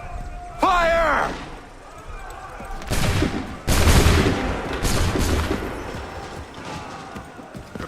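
Musket volleys in Assassin's Creed 3, several loud massed discharges booming out between shouted commands and battlefield voices, each volley a sharp broad blast fading into rumble.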